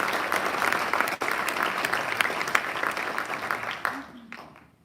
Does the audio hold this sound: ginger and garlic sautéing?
no